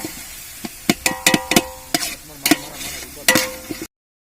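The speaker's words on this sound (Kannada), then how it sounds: "ಈಗ ಟೊಮೆಟೊ ಹಾಕ್ತಿದೆ, ಫ್ರೈ ಮಾಡ್ತಿದ್ದೀವಿ." Tomatoes frying in a pan while being stirred, giving sharp scraping clinks in an irregular rhythm over a soft sizzle, close and moderately loud, ending abruptly.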